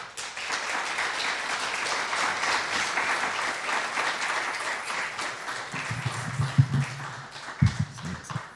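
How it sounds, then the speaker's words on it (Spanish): An audience at a documentary series premiere applauds steadily, dense clapping that thins toward the end as a few low thumps and taps come through. "Vamos a recibir con un fuerte aplauso a la Daniela Millaleo"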